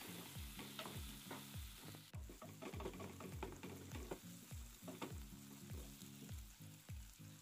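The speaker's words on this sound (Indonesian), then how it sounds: "aku campur, aku gabungin tumis dengan cabai dan tomat-tomatnya" Instant noodle seasoning stir-fried with chilies and tomatoes in a pan, a steady loud sizzle broken by repeated rhythmic scraping strokes of a spatula, close up and without talk.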